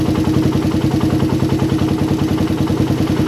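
A motorcycle engine fitted with a PE PWK carburetor idles close and loud, its rapid, even firing pulses giving a steady mechanical chug with light clatter throughout, no voices over it.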